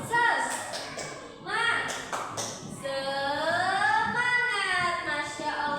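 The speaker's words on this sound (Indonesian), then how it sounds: "Tepuk semangat." Children in an Indonesian classroom perform a rhythmic spirit clap, sharp clustered claps in a patterned beat followed by chanting voices and a teacher speaking.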